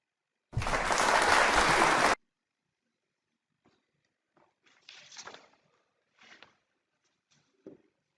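Students in a classroom clap together in one short, loud burst lasting under two seconds, then the room falls quiet apart from faint shuffling and scattered soft knocks.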